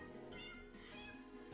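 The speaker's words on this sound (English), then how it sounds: "So we have a cat" A cat in the video game Dialtown gives two or three clear, close meows in quick succession, each a short rising-falling cry over a quiet background.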